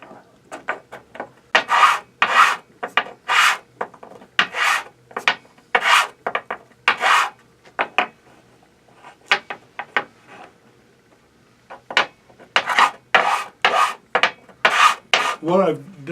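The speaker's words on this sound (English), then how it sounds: "I've got a piece of MDF and I just glued some sandpaper on it." A piece of walnut is rubbed back and forth on sandpaper glued to a flat MDF board, giving crisp, rhythmic rasping strokes in bursts with short pauses between.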